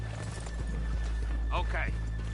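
Horses in the Red Dead Redemption 2 video game clop along while one lets out a clear, shrill whinny partway through, set over a constant low background hum with faint voices.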